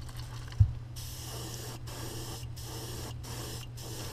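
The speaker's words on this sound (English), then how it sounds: "So I will spray right to the middle of the body," An airbrush spraying paint onto a baby bass crankbait fishing lure hisses in steady bursts, starting and stopping in a loose rhythm, close and fairly quiet.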